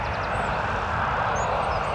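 A jet aircraft passes close over the Mound at Dublin Airport, a loud, steady roar of engine noise that fills the whole moment without pause.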